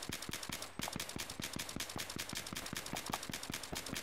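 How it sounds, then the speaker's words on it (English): Rapid gunfire in the Battlefield 3 co-op campaign, a fast, evenly spaced stream of sharp shots over a steady background rumble, loud and continuous with no talking. "Can you hear all my gunshots?"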